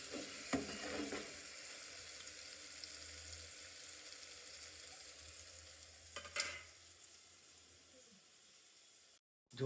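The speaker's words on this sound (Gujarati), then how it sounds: "ત્યારબાદ આને મિક્સ કરવાનું રહેશે. આપણે મિક્સ કરી દઈએ એને." Masala being stirred into dal in a frying pan, a soft steady sizzle with a few louder scraping bursts of the spoon, fairly quiet and ending in a short silence.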